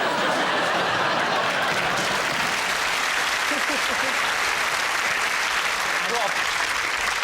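A television studio audience bursts into steady applause mixed with scattered chuckles and laughter during a comedy panel show, loud and continuous with voices talking over it.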